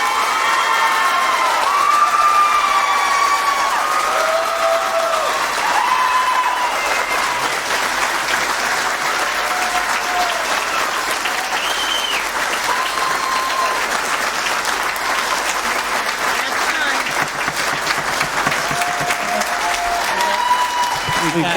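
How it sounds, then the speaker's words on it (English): Applause and cheering from the audience fill a council meeting chamber, steady and dense for the whole stretch, with whoops and shouts rising above the clapping and voices mixed in. "If you could please hold your applause."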